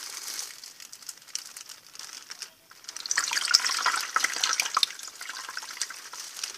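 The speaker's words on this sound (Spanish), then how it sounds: "voy a echar un poquito más agua de otra cosa" Water is poured and trickles into a container, a light splashing and crinkly patter that drops out briefly midway, then returns fuller and louder before settling into a steady trickle.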